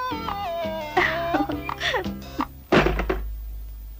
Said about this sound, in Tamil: கதவை சாத்த மட்டும்தான் காத்து வரும்